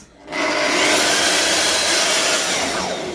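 Wooden dowels being cut on a multifunction table with a power saw, which spins up quickly and holds a loud, steady whining hiss with a rasping edge.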